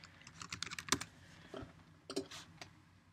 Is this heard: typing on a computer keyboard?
yes